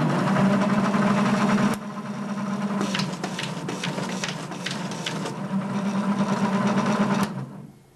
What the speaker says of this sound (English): another unique feature is to see it fold or refold a folded sheet